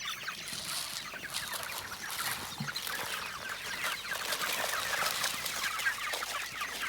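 Chickens kept in a mobile chicken tractor on a homestead cluck and chatter continuously at close range, with dense scratchy rustling throughout and no talking.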